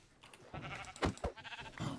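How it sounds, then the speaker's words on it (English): Sheep bleating after being hit in Minecraft hardcore mode, a short wavering bleat repeated a couple of times in quick succession, close and clear with no talking. "I hit the sheep"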